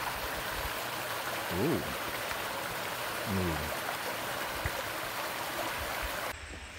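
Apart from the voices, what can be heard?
stream flowing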